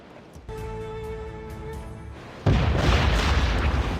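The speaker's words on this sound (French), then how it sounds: "Mortier! Une embuscade!" Mortar fire erupts during an ambush at sea in Assassin's Creed Rogue: a sudden heavy, rumbling blast follows a quiet musical passage and roars on loudly to the end.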